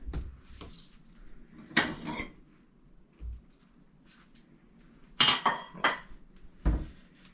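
A plate set down on a kitchen counter while making limoncello: a few sharp ceramic clinks and knocks, close and fairly loud, spread over several seconds with quiet pauses between.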